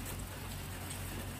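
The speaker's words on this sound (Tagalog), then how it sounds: "It's rain and sunshine." Rain falls steadily on a hike on Lamma Island, making a soft, even patter and hiss that stays constant and fairly faint throughout, with no voices.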